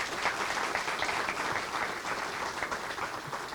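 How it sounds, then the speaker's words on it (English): Audience applause at an operations and supply chain conclave after a speaker's session; steady, dense clapping from a sizeable crowd, heard fairly distant and even throughout. "So one round of applause to them before I wind up my session."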